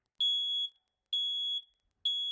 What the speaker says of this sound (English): Oh, the alarm went off.